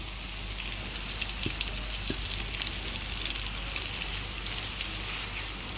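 Chopped onions sauté in a pan for a roqaq pastry dish, a dense continuous sizzle and crackle with scattered pops, steady and close with no talking.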